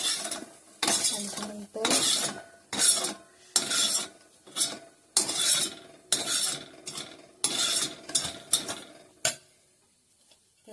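A utensil scrapes cooked Konkan-style okra bhaji out of a pan onto a plate in about a dozen rhythmic metallic scrapes, close and crisp, with a brief spoken phrase.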